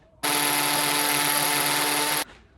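A power drill bores a wall-plug hole, one steady high-pitched whine running unbroken for about two seconds, close and loud, starting and stopping abruptly with no talking.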